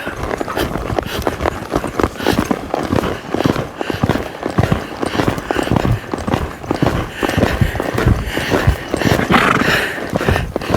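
A horse being worked in its gaits moves steadily, hooves thudding in a continuous rhythm on soft ground, close and fairly loud throughout with no talk.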